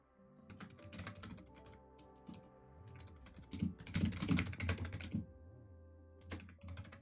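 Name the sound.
typing on a computer keyboard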